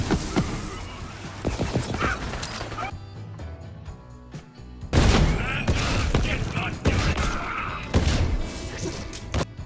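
Weapons firing in the video game Borderlands 3: dense, loud bursts of gunfire and explosive crashes, rapid automatic volleys with booming impacts, broken by a short quieter gap, with voices mixed into the action.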